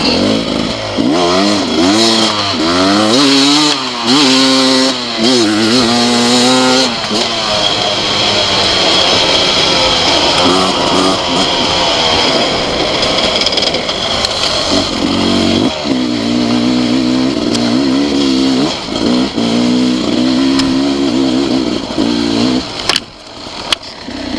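A 2021 Beta 300RR Race Edition two-stroke dirt bike ridden fast in hot weather, its engine loud and close, revving up and down repeatedly with rising and falling pitch sweeps throughout.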